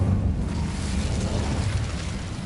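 A fire spell being cast in a video game, a steady low roaring rumble like a burst of flame that holds at an even loudness for a couple of seconds, with no talk.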